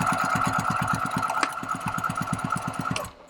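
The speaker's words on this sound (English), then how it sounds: "I'm just going to run a row of stitching" A sewing machine runs a row of stitching on a strap attached to a duffel bag panel, with rapid, evenly spaced needle thumps over a steady motor whine that stop abruptly at the end.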